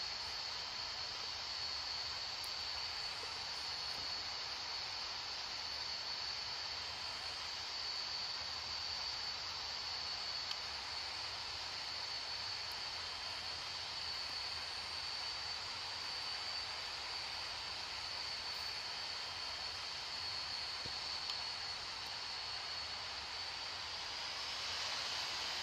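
Boeing 737 MAX 8 jet engines on a SpiceJet flight from Chennai to Port Blair in the Real Flight Simulator video game: a steady, even broadband roar with a faint high whine, continuous and unchanging throughout.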